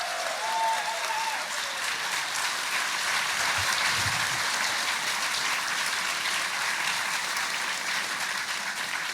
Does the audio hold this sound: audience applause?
yes